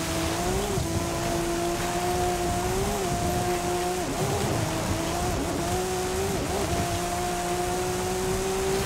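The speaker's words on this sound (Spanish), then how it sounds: "Qué bien se escuchan los motores de los coches." Car engines in a racing video game whine steadily at sustained pitch, rising and dipping as the cars shift and corner, with a faint tire-squeal texture and no talking.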